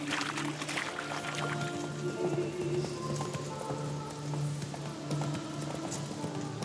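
Horse hooves galloping steadily in The Witcher 3 video game, a continuous rapid clip-clop under a busy, noisy game soundscape with no talk.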